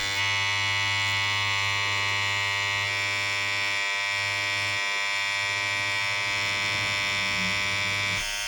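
Tattoo machine driving white pigment into skin, a steady close electric buzz with strong harmonic hum that runs continuously throughout, with no talk.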